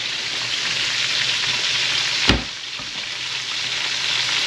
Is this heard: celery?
yes